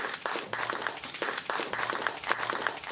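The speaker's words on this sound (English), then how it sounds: "give yourself a round of applause" Applause from an audience of young people at a youth event, steady mid-level clapping with a few sharper individual claps standing out, continuing evenly until it cuts off at the end.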